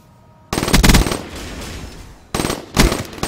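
Video game gunfire from a 3v3 tournament match rips out in two loud, close bursts of rapid automatic shots, separated by a brief lull with lower rumbling, and no one speaks.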